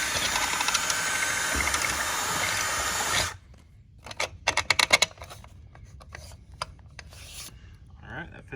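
Widening a hole to fit the square shoulder of a carriage bolt while fixing a loose running board: steady close rasping for about three seconds, then a run of short scraping and clicking bursts separated by quiet gaps.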